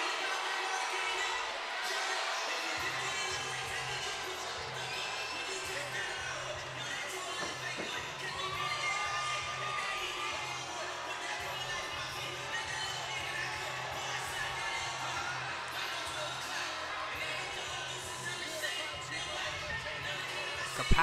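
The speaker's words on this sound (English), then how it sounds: "Capacity crowd here at the Masonic Temple." Capacity crowd roaring at a women's boxing match in the Masonic Temple arena, a dense, steady wall of cheering and chatter that fills the whole stretch, with a faint low rhythmic thump underneath.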